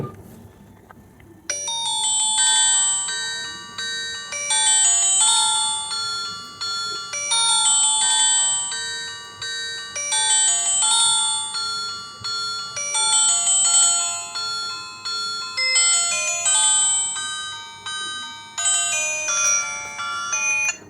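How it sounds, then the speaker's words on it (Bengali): A keypad mobile phone plays a bright, chiming ringtone loudly in repeating melodic phrases, cycling several times with brief pauses between. "ফোনটির যে রিংটোনের সাউন্ড সেটা একটু চেক করব"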